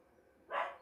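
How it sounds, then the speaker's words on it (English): A Papillon mix dog gives one short, sharp yap partway through, fairly faint against a quiet indoor background. "He likes to bark at things because he's got Papillon in him."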